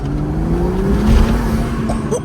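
A BMW car accelerates hard with a rising engine note, heard from inside as it is driven fast, loud and steady throughout with no talk.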